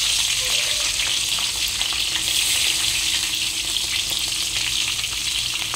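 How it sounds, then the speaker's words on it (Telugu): Cumin seeds and cut green chilies fry in hot oil in a kadai, a loud, dense, continuous crackling sizzle that holds evenly throughout with no voices. "నూనె వేడైన తర్వాత కాస్త జీలకర్ర వేసుకొని ఒక 4 పచ్చిమిర్చి కట్ చేసుకొని వేసుకోవాలి"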